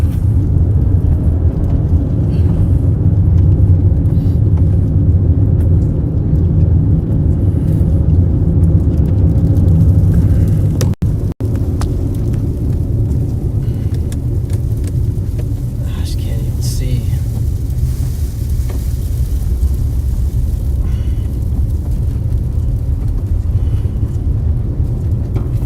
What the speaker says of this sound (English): wind's whipping right in front of me here, spinning right in front of me